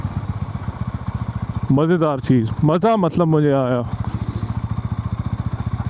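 A Sothassi 400 Classic single-cylinder motorcycle thumps along with a steady, rapid pulsing beat while being ridden, loud and close, with someone talking over the engine for a couple of seconds in the middle.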